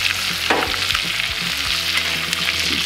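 A steak sizzles loudly in a pan while being basted with rosemary on a grill, a steady crackling fry broken by soft spoon and liquid movements close by.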